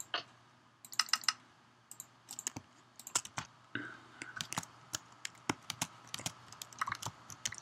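Quick irregular clicks from a computer keyboard during a Minecraft minigames session, bursts of close, crisp keystrokes with short pauses in between, no talk.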